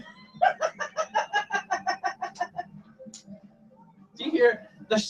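A man imitates a rooster, with a rapid series of about a dozen rhythmic clucking calls followed by a short squawking crow-like shout, close and loud in a kitchen.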